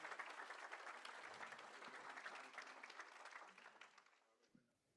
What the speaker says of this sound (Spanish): Fuertes los aplausos para nuestro ponente.